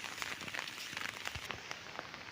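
Steady rain pattering on surfaces outdoors on a wet monsoon day, a dense continuous hiss with scattered distinct drops, fairly close and moderately loud, no talking.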